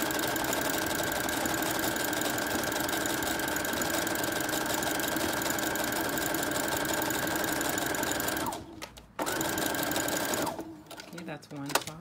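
A sewing machine stitching a knit fabric poncho seam, a steady rapid mechanical whir running close and continuous, pausing briefly near the end, with a voice talking faintly underneath.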